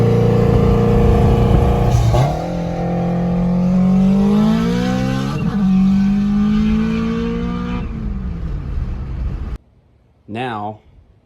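An all-wheel-drive Honda Del Sol accelerates hard, its engine note climbing steadily through several loud revving pulls before cutting off abruptly, followed by a brief rising whine.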